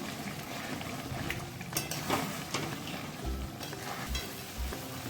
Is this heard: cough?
no